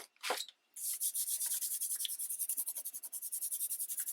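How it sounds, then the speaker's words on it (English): A hand rubs steadily across paper laid over a marker print, producing a fast, even run of close, scratchy swishes after a brief opening stroke and pause. "See, I'm just rubbing, and already I can tell it's printing"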